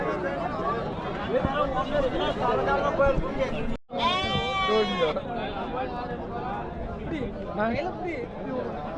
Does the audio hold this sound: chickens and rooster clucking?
no